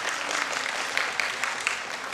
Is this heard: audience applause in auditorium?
yes